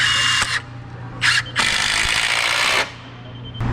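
A power drill bores holes for epoxy at a concrete footing job site, with loud sustained whirring bursts broken by short pauses, close by and with no talking.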